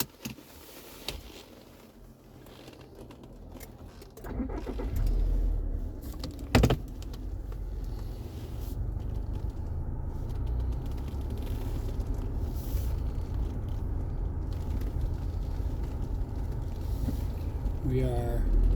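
Car driving on a morning commute, heard from inside the cabin as a low, steady engine and road rumble, with one sharp knock partway through.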